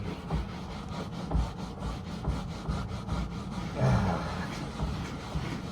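A brush scrubbing cleaner and dish soap into the surface of an old toy hauler trailer, steady close rasping strokes in a continuous rhythm, no speech.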